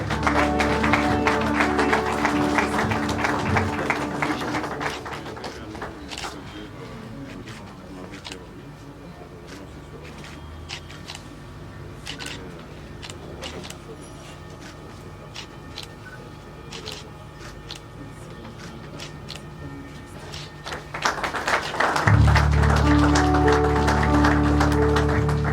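Audience applause at a ceremony at a national museum in Congo, steady and moderately loud, swelling again near the end, with some voices mixed in.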